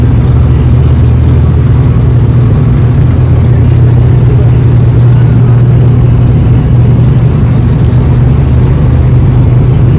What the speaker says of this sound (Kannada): ಟೇಕ್ ಆಫ್ ಆಗ್ತಾ ಇದೆ.